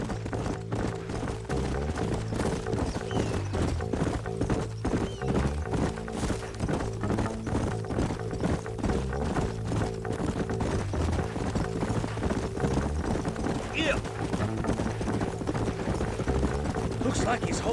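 Horses gallop in Red Dead Redemption 2, a steady run of hoof clip-clops under game music and ambience, with voices talking over them.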